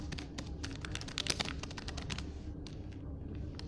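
Fingers type on a computer keyboard in a rapid, uneven run of crisp, close clicks and taps, with a brief pause near the end and no voices.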